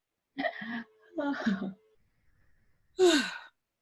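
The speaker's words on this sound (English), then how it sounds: "Have a nice yawn. I'll get one for you." A single long, breathy yawn drawn out by one person during a guided meditation, following two brief vocal sounds and a short quiet gap.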